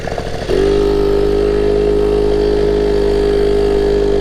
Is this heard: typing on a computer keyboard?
no